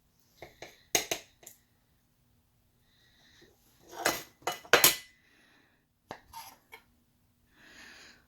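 A utensil scoops a serving of lime cracker pie with a graham cracker base from its dish, giving a few close, sharp scrapes and clinks in two short bursts separated by quiet.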